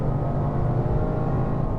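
Low, steady engine drone from a 2023 Toyota GR Corolla Morizo Edition hatchback with a 1.6 litre turbocharged three-cylinder, a constant rumble at even level with no revving or talk.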